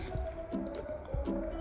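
Water dripping in a home kitchen during cleanup, a handful of irregular wet drips and squishy splats landing close by over a low steady background, no talking.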